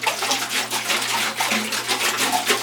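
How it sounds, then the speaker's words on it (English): Vinegar and water slosh steadily back and forth inside a closed humidifier reservoir as it is shaken vigorously, a continuous churning swish up close. "Shake it up real good. Let that vinegar hit all the surfaces inside this reservoir."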